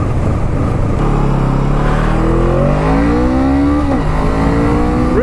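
A Honda CMX 500 Rebel motorcycle pulls hard in first gear, its engine note climbing steadily and loudly as revs rise, briefly dipping near the end before rising again, heard close without any talking.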